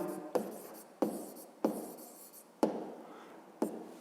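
Pen strokes on paper while working a grade 5 maths exercise, five distinct scratchy writing strokes spaced about a second apart, close and fairly quiet, each starting with a sharp tap and trailing off.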